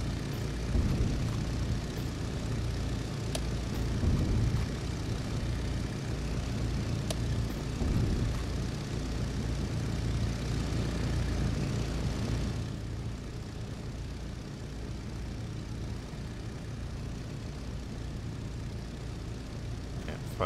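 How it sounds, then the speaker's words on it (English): World War II torpedo bombers in the naval warfare game Victory at Sea Atlantic make a steady, droning propeller engine roar. It stays loud and constant, then eases slightly partway through, with no voices. "So let's send in the torpedo bombers."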